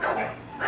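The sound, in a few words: dog barking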